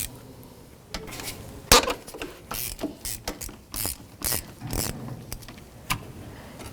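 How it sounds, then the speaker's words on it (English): Ratchet with a 13 mm socket breaking loose an ignition coil mounting bolt on a 1984-2001 Jeep Cherokee: a close series of sharp clicking ratchet strokes in uneven bursts, with no talk. "it's a 13 millimeter socket, or a 1/2 inch socket. Breaking free."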